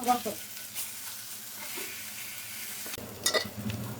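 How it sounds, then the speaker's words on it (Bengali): A large fish frying in hot oil in a pan, a close steady sizzle with occasional stirring scrapes and clinks, fading quieter in the middle before picking up again. "মাছগুলো একেবারে লালচে করে ভেজে নিয়েছি"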